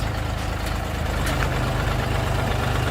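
A Dongfeng 244 mini tractor's small diesel engine runs steadily nearby, a low rhythmic chugging idle with a constant throb throughout.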